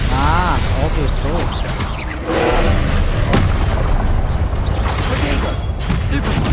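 A Confringo blasting spell detonating in the Hogwarts Legacy video game, a loud deep boom with crashing debris amid dense game noise, while a person talks over it.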